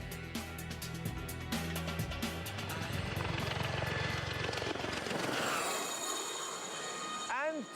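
Ex-military Gazelle helicopter flying: a loud, continuous rotor and turbine roar with a rhythmic beat, rising to a whine as it passes close, with a voice speaking over it.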